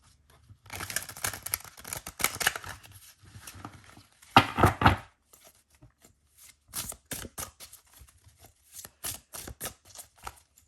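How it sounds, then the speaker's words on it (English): A deck of tarot cards is shuffled close up in quiet surroundings, with bursts of riffling and soft rapid card flutters separated by short pauses. "at least we can get a little shuffle out of this."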